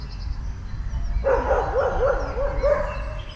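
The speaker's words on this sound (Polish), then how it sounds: "Nawet pies odzywa się w tym momencie i tworzy." A dog gives a quick run of six or seven short yaps at moderate distance, over a steady outdoor background hum.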